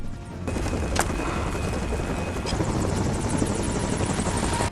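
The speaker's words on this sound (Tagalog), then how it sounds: "Pagdating niya sa extraction zone, agad na lumitaw ang isang helikopter." A helicopter arrives at an extraction zone, its rotor thumping loudly and continuously close by, with a brief sharp crack early on and the noise swelling slightly as it nears.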